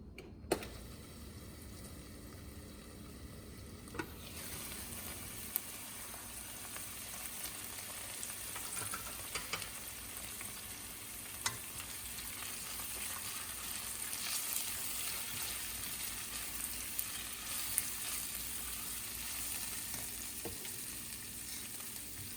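Zucchini frying in a covered pan on a stovetop, with a steady, dense sizzle that stays fairly even throughout, broken by a few faint clicks and small pops and no voices.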